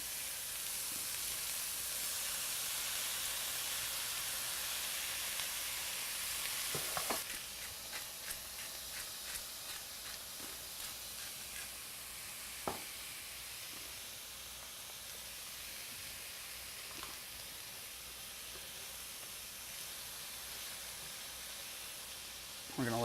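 Chicken pieces with carrots and chopped tomato sauté in a hot pan, a steady hiss of sizzling broken by a few sharp clacks of stirring.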